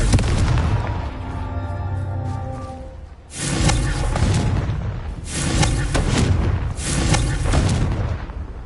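A Confringo spell explosion in the Hogwarts Legacy video game: a whooshing cast followed by heavy, booming blasts that rumble and recur in several loud bursts.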